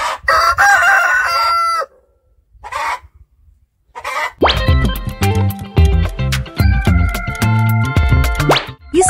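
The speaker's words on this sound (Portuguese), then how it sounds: "Isso mesmo, é o galo." A rooster crows loudly with a drawn-out, harmonically rich call, preceded by a few shorter bursts of clucking and fowl noise.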